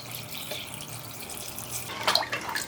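Water runs into a pressure cooker holding soaked chickpeas with salt and turmeric, a soft steady trickle that turns into brief louder splashing near the end.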